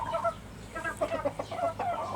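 Chickens cluck and chatter in a steady, busy flock while being readied for a long-distance transport to a customer, close and continuous.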